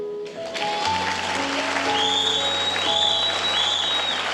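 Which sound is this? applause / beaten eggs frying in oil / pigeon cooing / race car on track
applause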